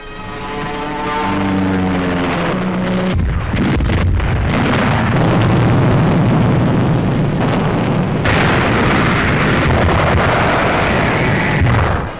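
Heavy bombing and mortar fire from a 1945 wartime newsreel of the Allied advance in Germany, a loud continuous barrage of blasts and rumbling with sharp bursts, dense and sustained throughout.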